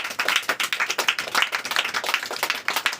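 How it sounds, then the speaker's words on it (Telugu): Audience clapping as first prize is handed out at a prize-giving, a lively run of crisp overlapping handclaps from a small crowd, fairly close and heard alone without talk. "అందరూ క్లాప్స్ కొట్టండి"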